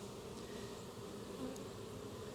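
Honeybees swarm around a top bar hive as they are installed with a caged queen, their dense, steady buzzing filling the air without a break, close and constant.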